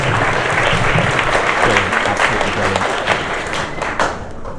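A crowd at a junior coding hackathon show-and-tell applauds first-time coders, dense close clapping filling the whole stretch with a few cheers mixed in.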